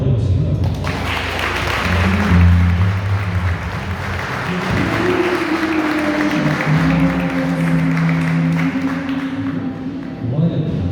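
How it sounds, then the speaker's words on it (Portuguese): Church congregation applauding during a Portuguese-language worship service, a broad steady wash of clapping that fills the full eleven seconds with an even loudness, accompanied by sustained organ or keyboard tones underneath. "Você pode aplaudir o Senhor?"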